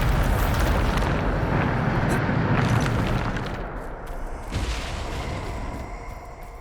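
A loud, rumbling Bombarda blast spell in the Hogwarts Legacy video game, a dense roar of heavy low booms that fades slightly midway before a second surge of debris and rumble.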